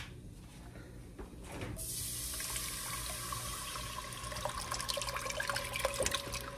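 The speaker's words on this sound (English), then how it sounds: "Now we're gonna add in our vegetable broth." Vegetable broth pours into a hot cooking pan, a steady, close liquid splash that starts after a quieter moment and keeps running with a busy hiss, with no talking.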